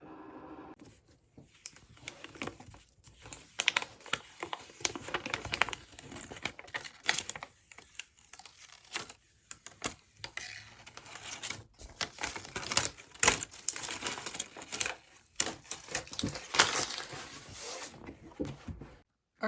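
A Cricut cutting machine slicing through paper makes a close, busy run of rapid ticking, tapping and scraping clicks that come in dense bursts with brief pauses between them, and no voice is heard.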